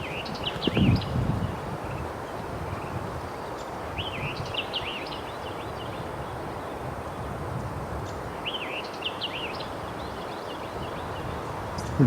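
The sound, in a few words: recording of white-eyed vireo song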